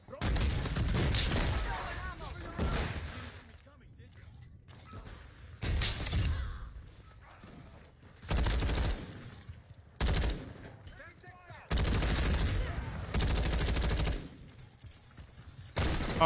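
Bursts of automatic video game gunfire rattle in repeated long volleys separated by short pauses, loud and close, with a player talking in between.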